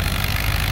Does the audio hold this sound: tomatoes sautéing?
no